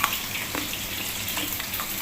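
Fish frying in a pan gives a steady close sizzle with faint crackles throughout, and there is no talking.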